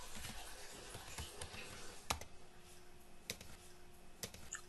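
Keys clack on a computer keyboard as a Linux command is typed in an Ubuntu terminal, a quiet run of scattered clicks with a few sharper taps over a faint steady hum.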